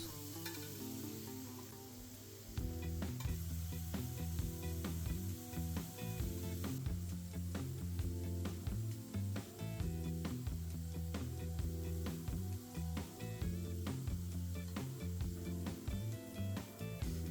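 Potatoes fry in hot oil with a dense, crackling sizzle that stays loud and close after a brief quieter opening, with scattered pops and no voices.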